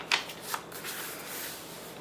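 Packaging paper rustles and crinkles as it is handled up close for a handmade journal, with a couple of sharp crackles early on followed by steady soft rustling.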